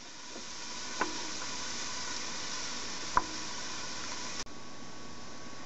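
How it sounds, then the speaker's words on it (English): Onions sauté in melted butter in a large pot on the stove with a steady, close sizzling hiss throughout, broken by a few sharp clicks and a brief clatter as they are stirred. "Then melt your butter or other fat and saute the onions in it."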